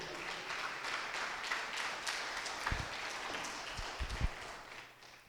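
A church congregation at a Bible study applauds, a moderate, fairly distant spread of clapping with a few low thumps, tapering off near the end.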